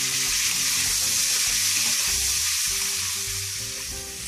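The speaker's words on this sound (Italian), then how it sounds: "Facciamo rosolare un po' e poi andremo ad aggiungere i nostri carciofi." Guanciale and artichokes brown in a pan with a loud, steady sizzle and crackle, close up and continuous, with faint stirring and no talking.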